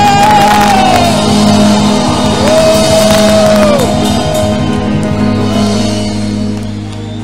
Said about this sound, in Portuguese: Dê a Jesus um brado de libertação nessa noite.